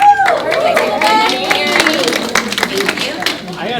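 A small audience at a bloggers' Q&A panel claps in short, uneven bursts with sharp individual hand claps over crowd chatter, while a voice speaks over the noise.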